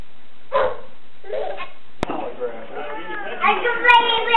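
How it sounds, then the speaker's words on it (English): A dog gives a couple of short barks amid playing children, with kids' voices chattering and calling out around it, close and lively. "What a ridiculous dog."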